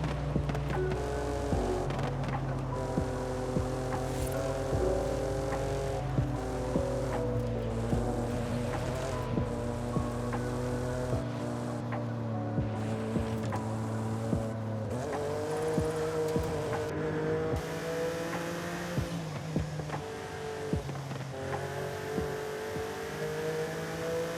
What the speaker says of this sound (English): Car sounds absolutely bonkers.